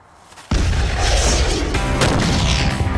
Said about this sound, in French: Une explosion digne d'un coyote et les Mythbusters obtiennent les données dont ils ont besoin.